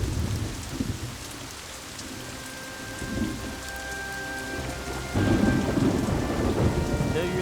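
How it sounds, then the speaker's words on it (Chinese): Steady rain pours down while thunder rumbles and swells, loudest in a heavy burst near the end, with a faint sustained tone running underneath; no one speaks. "下雨了。"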